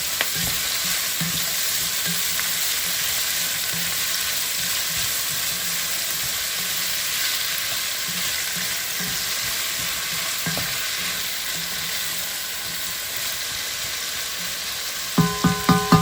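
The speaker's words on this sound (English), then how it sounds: "Well, so we've been about 15 minutes of sauteing these onions." Onions sautéing in a pan for soup, a steady, even sizzle running throughout at moderate level, with a few soft clinks of a utensil near the end.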